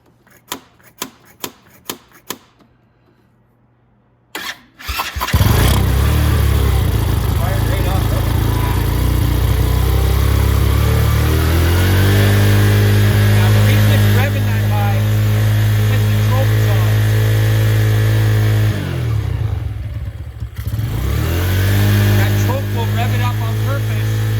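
Venom X22 125cc motorcycle with a Nibbi Race carburetor and the choke pulled: a few clicks and cranking attempts, then the engine fires and runs loud and steady, with rising and falling revs and a brief dip near the end.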